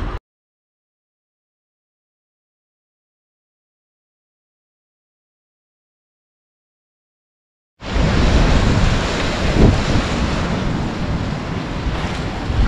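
Rough, wind-whipped river waves splash at Punta Lara: after a long silence, a dense steady roar of wash and wind noise sets in and continues loudly to the end.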